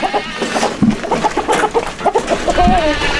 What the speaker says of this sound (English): What do you want, chicken? A rooster?